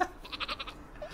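A sheep in the game Worms W.M.D gives a short series of quick bleats, close and fairly clear, followed by a faint game sound, with no talk.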